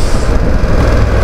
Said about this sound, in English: Engine's a bit tappy.